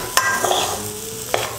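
Roasted raw banana paste sizzles softly in a hot pan while a spoon scrapes and stirs it, with a couple of sharp scraping knocks over a steady low frying hiss.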